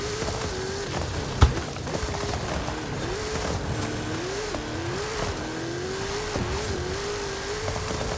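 Car engine in Forza Horizon 5, a drift and off-road car revving and shifting through gears for several seconds, the pitch rising and dropping repeatedly, loud and close, with a brief sharp knock early on.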